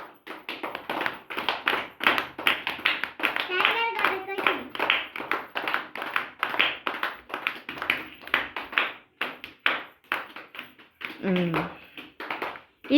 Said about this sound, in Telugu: క్లాప్స్ కొట్టండి రా